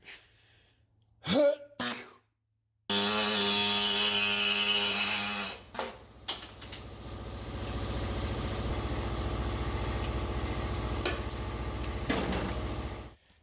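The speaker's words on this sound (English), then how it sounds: "Picked up this mini orbital sander from Harbor Freight." A small Harbor Freight mini orbital sander buzzes loudly and steadily for several seconds against sheet metal on a 1974 Chevy K5 Blazer, then drops to a lower, rougher whirring drone, with a few brief knocks and clatters before it starts.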